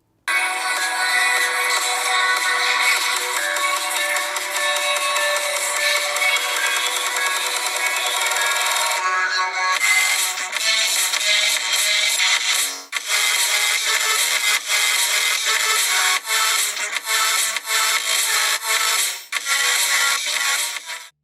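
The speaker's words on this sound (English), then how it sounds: "this phone has a mono speaker at the bottom, and this is how it sounds" A ringtone melody plays continuously through a Moto G9 phone's small bottom mono speaker, bright and thin with no low end, fairly loud throughout.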